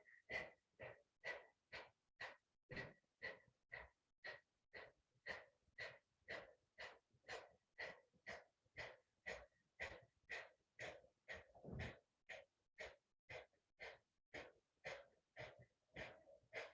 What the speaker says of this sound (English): we'll start that second round of breath of fire in 5 seconds